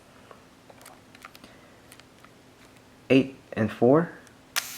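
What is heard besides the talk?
Leica M6 film camera shutter clicks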